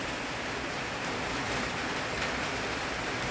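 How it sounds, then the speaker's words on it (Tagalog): Heavy rain falls steadily without a break, a loud, dense, continuous hiss with no voices. "Medyo malakas ang ulan, no? Wala nang hinto-hinto."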